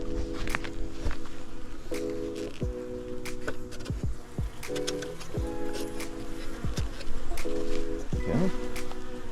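Honey bees buzz steadily around two opened beehives on a farm in late March, a dense insect drone with individual bees zipping past the microphone, plus occasional footsteps and distant birds.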